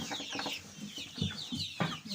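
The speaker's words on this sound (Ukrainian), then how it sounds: "курчата." Chickens clucking softly nearby, several short overlapping clucks and chirps in an irregular rhythm.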